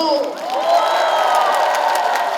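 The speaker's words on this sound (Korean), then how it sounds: "다시 한번 예쁜 만큼 박수!" Concert audience at a Super Hero Concert clapping and cheering, a bright wash of shouts and whoops over applause that holds steady and fairly loud throughout.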